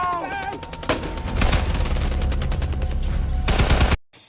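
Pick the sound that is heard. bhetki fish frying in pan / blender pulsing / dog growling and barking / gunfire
gunfire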